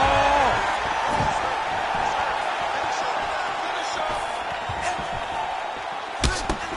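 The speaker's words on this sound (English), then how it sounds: "you hear that crowd reaction every time he gets battered to the body" A fight-event crowd gives off a steady, loud roar of reaction throughout, with a few sharp impact-like slaps near the end.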